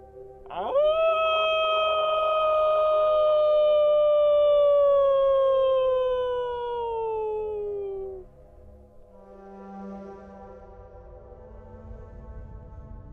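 A long wolf howl rises, holds and slowly falls for several seconds, sounding clear and fairly near, followed by a faint low hum and quiet background noise, heard during a wildlife survey where large carnivores are monitored.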